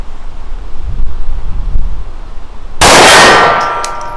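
A single sharp metallic clang from a pistol shot striking a steel gong target at an outdoor range, ringing out bright and loud after a stretch of wind noise.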